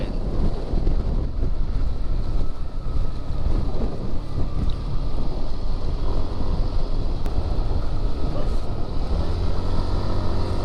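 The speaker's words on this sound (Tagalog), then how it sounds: "At malakas ang hangin." Strong wind gusting steadily beside the Agos River in Infanta, Quezon, a loud continuous roar buffeting the microphone for the whole stretch, with a broad rumbling low end and no voices.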